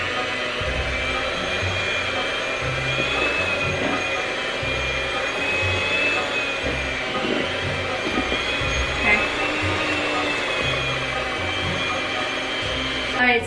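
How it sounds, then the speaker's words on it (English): An electric mixer whirs steadily through thick apple pie cupcake batter, a constant close motor hum with slight pulsing as the beaters work the bowl. "we mixed it pretty well with the mixer"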